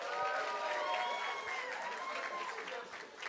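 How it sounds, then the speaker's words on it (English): Crowd applause and cheering for the couple at a wedding reception, a dense continuous wash of clapping with voices mixed in, steady and loud for the whole stretch. "Let's give it a round of applause for them"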